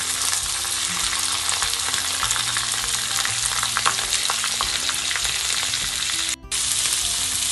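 Chopped onions and curry leaves sizzle steadily in a hot pan for chicken curry, a constant bright frying hiss with occasional stirring scrapes and a brief dip near the end.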